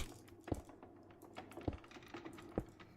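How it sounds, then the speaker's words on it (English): Computer keyboard keys clicking in quick, nervous runs, with a few louder, heavier key strikes standing out at intervals. The sound is close and quiet, and no voices are heard. "nervous keyboard clicking"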